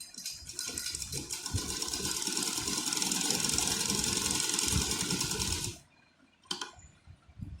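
A sewing machine runs a continuous double line of stitching along a blouse neck strip with a fast, close whirring hum for nearly six seconds, then stops, followed by a brief restart burst.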